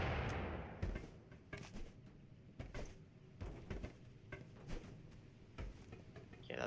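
Gunfire in the video game Totally Accurate Battlegrounds, with scattered sharp shots and bursts of varying distance, fairly faint and irregular over a quiet background.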